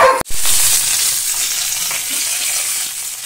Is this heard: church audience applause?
no